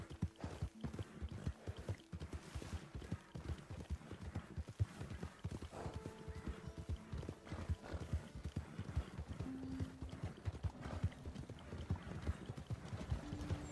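Horse hooves clip-clop in a steady trotting rhythm through the Red Dead Redemption 2 game world, close and fairly loud across the whole stretch, with occasional soft whinnies and game sounds mixed in.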